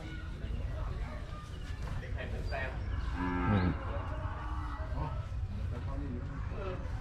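Cattle moo loudly at an outdoor Thai cattle market, one long, strong moo rising out of a constant crowd hubbub and murmured voices.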